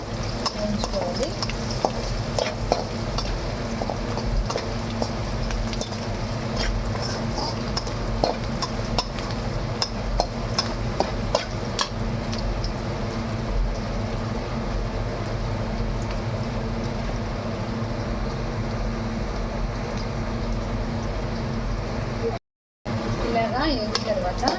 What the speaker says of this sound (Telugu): కొద్దిగా పసుపు పొడి, బాగా వేయించుకోవాలి.